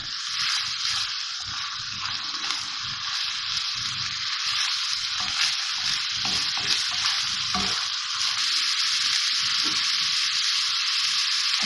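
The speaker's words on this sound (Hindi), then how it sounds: "अब मैं इसमें लहसुन अदरक का पेस्ट डाल रही हूँ और ये हरी मिर्चें डाल के मैं इसको भूनूंगी" Minced meat keema fries with garlic ginger paste and green chillies, giving a loud continuous sizzle with intermittent stirring scrapes throughout, no voices.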